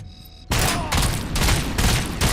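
Rapid shotgun blasts from RoboCop: Rogue City fire in a loud, dense burst after a quiet half-second, with three or four heavy booms in quick succession.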